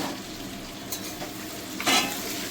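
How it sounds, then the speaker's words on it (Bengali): Chicken pieces fry in hot oil for a homemade chicken curry, giving a steady close sizzle with scraping stir strokes near one and two seconds, and no talk. "সেই জন্য এবার চিকেনটাকে ভালো করে ভেজে নিই।"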